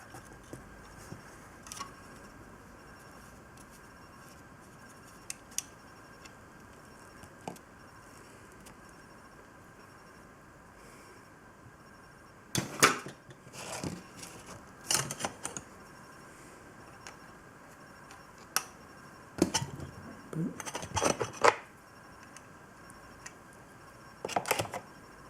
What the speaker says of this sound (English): Let's see if we can dismantle the motor itself.